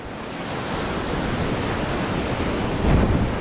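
Ocean waves wash on a beach, a dense, steady roar of surf close to the microphone with a slight swell near the end and no voices.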